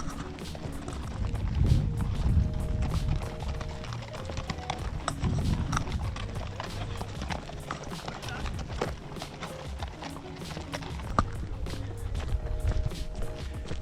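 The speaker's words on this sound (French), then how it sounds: "Plein de petits poneys." Several ponies walk nearby, their hooves clip-clopping in a dense, steady patter amid background chatter and ambient noise.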